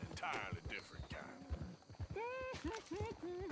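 A horse in Red Dead Redemption 2 whinnies loudly in a rising, wavering neigh, following close clip-clopping hoofbeats and snorts, and a voice talks over part of it.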